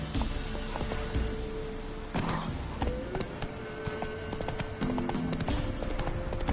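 Horse galloping in The Witcher 3, with rapid, steady hoof clip-clops close up over a constant game music and ambience bed, the rhythm broken by short pauses.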